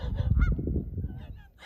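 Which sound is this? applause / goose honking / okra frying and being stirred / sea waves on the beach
goose honking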